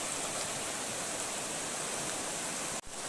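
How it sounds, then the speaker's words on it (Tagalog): Strong rushing water of a deep river roars steadily like a fast current along a mountainside, a dense constant wash of noise that cuts off abruptly at the end. "malalim yung ano, ilog ng tubig. Malakas."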